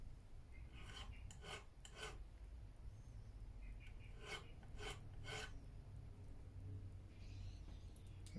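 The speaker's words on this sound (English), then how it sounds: "so we just go over it just very so slightly like this. Just remove that little burr." A small file rasping lightly over a burr on an Epiphone Les Paul Modern guitar, in several short soft strokes grouped in bursts, quiet and close over low background hum.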